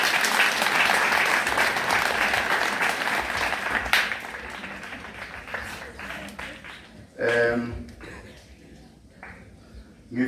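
A community crowd in Manguzi gathered to hear the Tembe tribal king applauds with a dense wave of clapping that gradually thins and fades, followed by a voice speaking through the tail.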